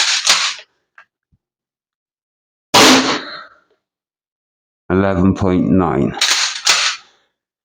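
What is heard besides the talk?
Umarex HDX 68 pump action airgun shotgun firing shots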